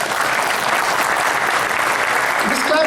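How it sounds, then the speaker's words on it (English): An audience at an MAS LA convention breaks into continuous, even applause that fills the whole moment and holds steady to the end. "You can clap now."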